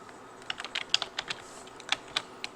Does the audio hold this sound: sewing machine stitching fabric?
no